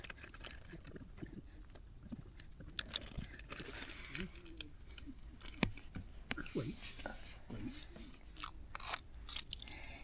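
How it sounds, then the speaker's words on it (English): The backing is peeled off a tacky adhesive repair patch for an inflatable kayak floor, a faint, crackly, sticky rustle with small pops spread over several seconds. "And then you just peel off the backing."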